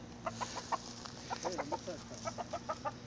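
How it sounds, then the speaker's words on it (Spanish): Hens on an egg-raising farm cluck in a quick, uneven series of short, close calls that continue throughout. "¿Vale o no vale el pollo del Javichu?"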